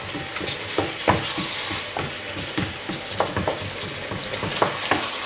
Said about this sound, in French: Là, je mélange. Il faut bien mélanger.